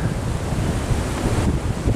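Strong wind blusters across an open reservoir, a steady loud roar with low rumbling gusts buffeting the microphone throughout, no voices.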